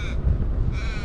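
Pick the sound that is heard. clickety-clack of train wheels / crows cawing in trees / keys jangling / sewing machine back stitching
crows cawing in trees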